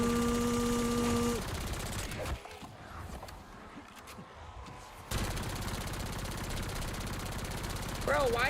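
Gunfire from the video game Black Ops 7 comes as rapid automatic bursts, loud at first and then muffled for a few seconds before returning, alongside game sounds and a faint voice.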